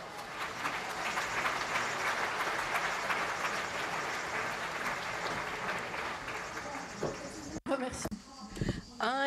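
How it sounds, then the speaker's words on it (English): A large conference audience applauds steadily in a hall, a dense, sustained clapping that fades out, followed by a voice speaking. "So Marion, we can give you a second round of applause."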